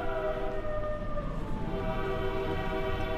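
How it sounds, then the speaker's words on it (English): A train passing by a house, a sustained horn-like tonal wail with layered pitches over a low rolling rumble, fairly loud and continuous throughout. "there's the train going by my house"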